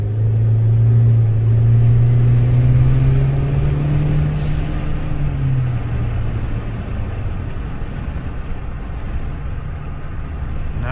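Steady low engine rumble of a 2022 Ford Maverick, heard from inside the cabin with a window rolled up while cruising, a constant droning hum that swells slightly and then settles, with no talking.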